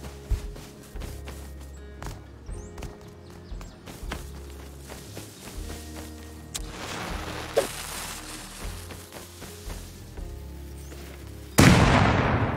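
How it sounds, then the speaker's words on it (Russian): An explosion in the survival video game Rust, heard as a sudden loud blast near the end, after a stretch of busy game sounds with footsteps, thuds and scattered gunfire-like bangs. "Воу, нихера, вот это взрыв."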